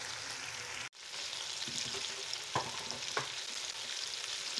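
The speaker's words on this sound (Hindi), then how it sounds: "इसको मैं 5 मिनट और भूनूंगी, फिर इसमें मैं वो पेस्ट डाल दूँगी।" Achari chicken frying in a pan, a steady close sizzle with a brief drop near the start and a few soft scrapes of stirring, no voices.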